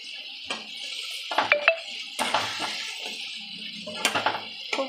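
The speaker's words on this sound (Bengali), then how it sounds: "এবার একটু ভালো করে নাড়াচাড়া করব।" Fish and potato curry being stirred in a cooking pan with a utensil, giving scraping clinks and soft clanks against the metal in short irregular bursts, close and moderately loud, with no talk.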